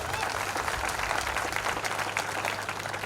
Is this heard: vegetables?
no